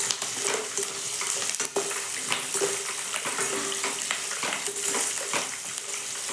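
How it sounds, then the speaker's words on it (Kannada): Green chillies, dry chillies and curry leaves frying in hot oil, a bright continuous sizzle and crackle with scattered spatters and stirring scrapes, close and steady. "ಈಗ ಹಸಿಮೆಣ್ಸಿನ್ಕಾಯಿ ಒಂದು ಒಂದೆರಡು ಒಣಮೆಣಸಿನ್ಕಾಯಿ ಮತ್ತು ಕರಿಬೇವನ್ನ ಹಾಕಿದ್ರಿ"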